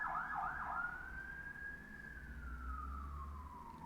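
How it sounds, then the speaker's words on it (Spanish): A police siren wails once, rising then slowly falling in pitch as it passes at some distance over a low rumble of traffic. "déjenme que pase la patrulla"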